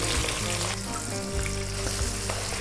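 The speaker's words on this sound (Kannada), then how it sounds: "ಕ್ಯಾಪ್ಸಿಕಮ್ಮು ಸ್ವಲ್ಪ ಫ್ರೈ ಮಾಡ್ಕೊಂಡ್ಬಿಡೋಣ" Chopped capsicum fries in a pan of oil and tempering for vangibath, crackling with a loud, close, continuous sizzle that shifts slightly as the pieces settle, with no voices.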